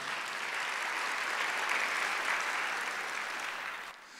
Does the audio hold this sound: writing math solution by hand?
no